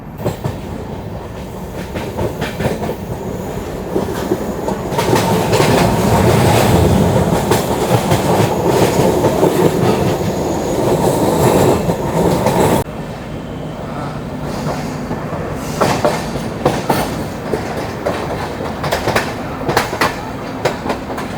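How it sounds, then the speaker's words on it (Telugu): Simhadri Express train 17239 running after departing Dwarapudi station, a steady loud rumble with rhythmic clickety-clack of wheels over rail joints, swelling louder for several seconds then settling into a continuous rolling roar. "మన ట్రైన్ అయితే ద్వారపూడి రైల్వే స్టేషన్ డిపార్ట్ అయిపోయిందండి"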